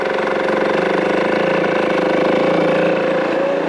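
A HM 50 CRE Six Competition motorcycle engine idles steadily up close, a continuous loud buzzing drone with a fine rapid pulse and no talk over it.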